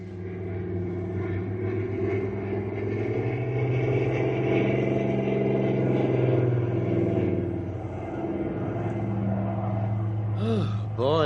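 Radio drama effect of a cargo plane descending to land on a runway, a steady loud engine drone and rumble that holds throughout, ending with a rising whine.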